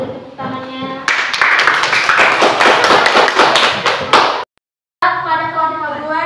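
A small group of students in a classroom claps for a few seconds, the sharp individual claps audible; a voice speaks before and after.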